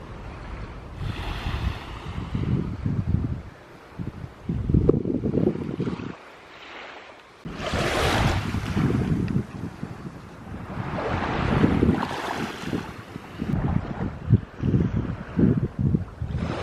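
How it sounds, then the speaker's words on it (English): Waves wash ashore at the Gdansk seaside, rolling in broad surges that swell and fade, with gusty wind rumbling across the microphone and no voices. "I want to go and see the ocean"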